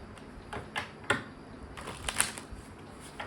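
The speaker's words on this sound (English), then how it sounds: "I love shuffling this deck." A deck of cards being shuffled by hand, giving a few soft riffling bursts and crisp snaps spaced irregularly, close and fairly quiet, with no talking.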